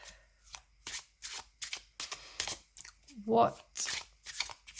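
An oracle card deck, the My Friend Fire linen edition, being shuffled by hand: close, rapid riffling bursts of stiff cards in an uneven rhythm, with a person speaking briefly between them.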